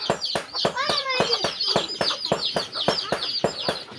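Chicken chicks chirping in the morning as hens are let out, a rapid series of high, sharp peeps close by, repeating in quick irregular bursts with some clucking mixed in.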